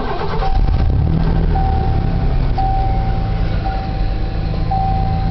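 A 1990 Ford F-150 pickup with a 4.9-liter engine running at a steady idle: a continuous low rumble with a faint whine held close by, and no voices.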